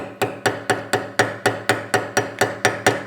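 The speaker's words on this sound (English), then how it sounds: "You're just going to take your hammer and lightly" A hammer strikes a punch to flatten a rivet during repair of a Hobart A200 mixer, giving about a dozen sharp, evenly spaced metallic blows, close and loud, with no talking.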